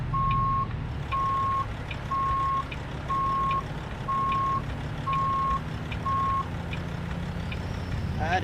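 In American Truck Simulator, a semi truck's reversing alarm beeps steadily about seven times over a low diesel engine rumble, then stops while the engine keeps running.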